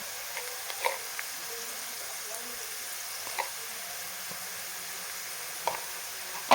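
A pan of cluster bean curry with onion, turmeric and salt sizzles softly as it is stirred, a faint steady hiss broken by occasional light scrapes and taps of the spoon.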